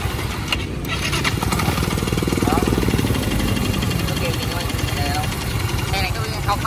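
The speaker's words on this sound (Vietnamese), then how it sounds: "Rồi nổ máy đi." A Yamaha Nouvo scooter engine starts and settles into a steady, continuous idle close by, running throughout with voices talking over it.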